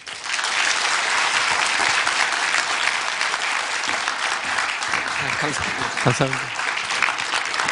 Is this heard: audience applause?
yes